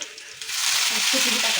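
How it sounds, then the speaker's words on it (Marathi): Garlic and cumin fry in hot oil for dal baati, starting quiet before a bright, steady hiss of sizzling swells up close and holds loud to the end. "तर यामध्ये लसूण टाकून थोडं सोनेरी कलर येईपर्यंत त्याला थोडंसं फ्राय करून घ्यायचं."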